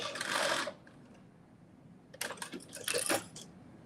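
A sewing machine doing a short back stitch while a Simplicity 9825 pattern is sewn: a brief burst of close, rapid mechanical stitching, a pause, then two more rattling runs of needle strokes.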